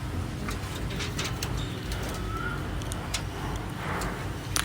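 Pigeons in a loft full of eggs and chicks, with soft cooing under a steady broadband background hum and a few brief higher chirps, fairly faint and continuous throughout.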